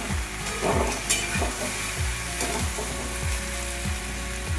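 Three bay leaves fry in hot oil while a taro curry is cooked, giving a loud continuous sizzle with repeated stirring strokes roughly every half second, no voices present.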